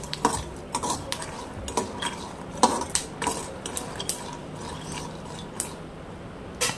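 Peanuts roasting in a pan over a medium flame: irregular rattling, scraping and clicking as the nuts are stirred and tossed against the metal, close and moderately loud, no talk.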